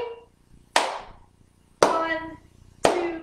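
Three sharp flat-handed claps in a flamenco practice for kids, evenly spaced about a second apart, each ringing briefly in a quiet room.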